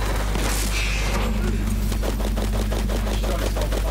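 Rapid automatic gunfire from a Borderlands 3 firefight, a steady stream of sharp, evenly spaced shots that runs loud and close through the whole stretch, with a low steady rumble beneath.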